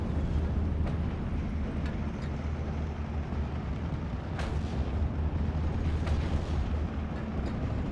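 Nebelwerfer rockets and mortars fire in the Steel Division: Normandy 44 video game, as a steady rumble of battle with several dull distant booms and thuds under a constant low roar.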